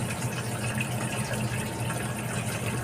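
After a grease clog is cleared, water rushes strongly through a pipe with a constant, dense, loud gushing roar that holds steady and unbroken throughout, with no voices.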